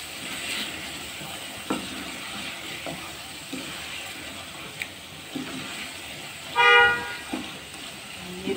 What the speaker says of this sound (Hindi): ये देखिए बहुत अच्छे से मसाले भुन रहे हैं।